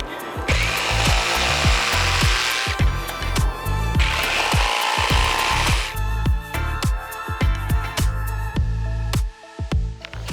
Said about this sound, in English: Then we just get our jigsaw